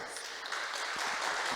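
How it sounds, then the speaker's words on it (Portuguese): An audience of women applauds at a self-care talk, a dense, continuous wash of clapping that holds steady and close throughout. "Uma salva de palmas, né, gente?"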